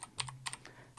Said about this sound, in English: I just type here